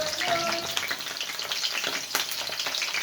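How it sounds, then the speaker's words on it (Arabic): Potato pieces frying in oil while being turned over, a dense continuous sizzle with faint scraping and a brief clink from the pan, heard close and alone. "نقلب بقى البطاطس كده، انا عايزاها تتحمر كده من كل جنب"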